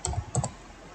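Typing on a computer keyboard while entering a database table command: a short run of quick, close keystrokes in two small bursts, then quieter.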